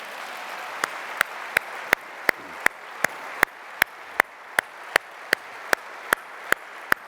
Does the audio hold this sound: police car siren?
no